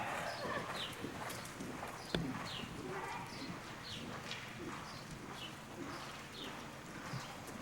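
Horse hooves thud and clop softly on the footing of an indoor riding arena during a clinic, a faint steady rhythm of footfalls with distant bird chirps and light room noise.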